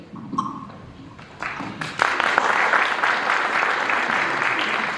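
A large audience at a live talk event bursts into applause, with a few scattered claps at first, then sustained loud clapping filling the hall.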